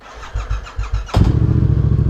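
A Yamaha FZ-07 motorcycle cranks with several quick starter pulses, then fires up and settles into a loud, close, throbbing exhaust idle.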